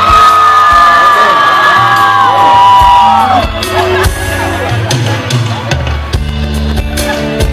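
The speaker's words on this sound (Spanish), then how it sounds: "quiero que grite la gente que vino a ver a sus grupos ecuatorianos." A concert crowd at an Ecuadorian pop rock show in Quito shouts, whoops and cheers loudly and continuously, blending with amplified music and a singer's voice over the stage sound.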